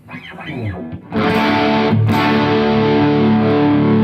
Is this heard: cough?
no